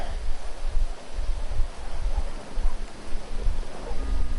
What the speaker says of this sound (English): I don't play in rain well.